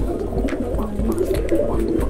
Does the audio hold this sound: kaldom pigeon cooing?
yes